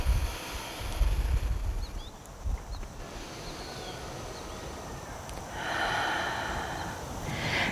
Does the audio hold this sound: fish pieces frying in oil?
no